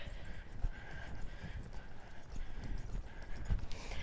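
Horse hooves beat out an extended trot under a rider posting, a steady rapid clip-clop of footfalls on arena ground, moderately close amid continuous background noise.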